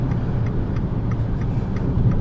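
Abarth 500 engine pulling hard in third gear while climbing a mountain road, a steady dense low drone with constant road and wind noise and faint regular ticking, no talk.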